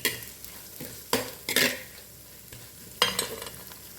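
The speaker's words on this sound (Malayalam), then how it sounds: "ഞാൻ കറിവേപ്പില ഇട്ടു ഇഞ്ചിയും വെളുത്തുള്ളിയും പച്ചമുളകും ഇട്ടിട്ട് ഒന്ന് രണ്ട് മിനിറ്റ് നന്നായിട്ട് വഴറ്റിയിട്ട്" Curry leaves, ginger, garlic and green chillies sauté in a pan, with a soft sizzle underneath and several sharp scraping stirs of a spoon against the pan at irregular intervals.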